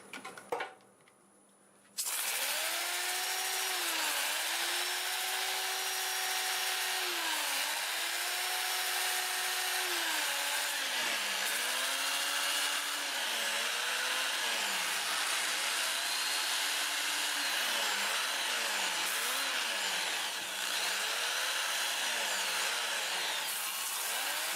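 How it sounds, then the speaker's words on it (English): Purple heart wood is sanded on a lathe spinning in reverse at around 400 grit, giving a continuous loud abrasive hiss with rising and falling rubbing sweeps, after a brief quieter start. "I'm going to sand in reverse."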